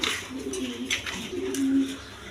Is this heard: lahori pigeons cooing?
yes